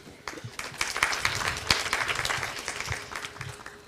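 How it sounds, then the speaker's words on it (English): Audience applause at a live-streamed industry panel event, a dense, steady crowd clapping of many hands, moderately loud and continuous throughout with no speech over it. "A big round of applause, please."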